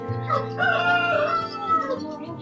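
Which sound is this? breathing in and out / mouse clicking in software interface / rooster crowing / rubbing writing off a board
rooster crowing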